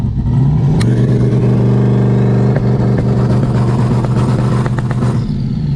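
A race car engine held on two-step launch control with a flame shooter, loud and close, a sustained harsh stuttering rev with sharp popping bangs throughout, no talk.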